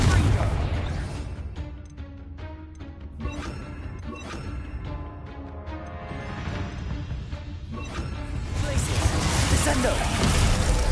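Confringo fire-blast spell explosions in the video game Hogwarts Legacy: heavy booming blasts and crashing bursts over a continuous bed of combat noise and music, growing louder toward the end, with a voice heard amid the fighting.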